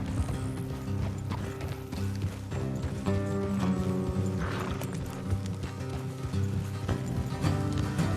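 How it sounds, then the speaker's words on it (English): Horses galloping in Red Dead Redemption 2, with a steady rapid clip-clop of hooves, a whinny and creaking tack, all heard under a musical score throughout. "Let's leave the horses here and go the rest on foot."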